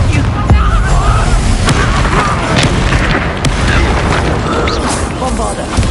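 Fire blast spell explosions from the Confringo spell in the video game Hogwarts Legacy: loud, dense booms and bursting crackles under continuous combat noise, with a voice shouting over the din.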